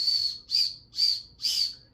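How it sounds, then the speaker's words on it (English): A cheap plastic whistle from budget Temu survival gear gives four short, shrill blasts in an even rhythm, close and fairly loud, with nothing else heard. "the whistle works about as well as you would expect"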